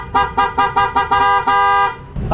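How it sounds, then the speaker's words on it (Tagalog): A newly fitted horn on a Suzuki Every Wagon being tested: five short bright honks in a steady rhythm, then one longer blast, loud and close. "Nakabit na yung busina, testingin natin."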